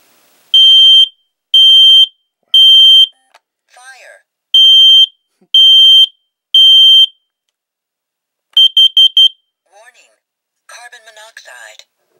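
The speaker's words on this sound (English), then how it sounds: "So you push it in once and you hear that tone." Kidde 3-in-1 smoke and CO detector in test mode, sounding loud, piercing beeps in groups of three, then a rapid cluster of short beeps. A recorded voice speaks between the beep groups.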